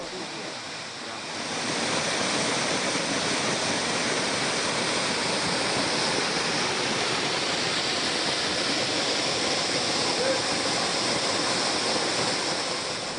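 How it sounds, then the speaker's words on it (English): Owere Zukala Waterfalls, a roughly 60-meter West African cascade, roars as a dense, continuous rush of falling water that swells to full loudness after the first two seconds and stays steady, with no voices. "Owere Zukala Waterfalls is a magnificent sight."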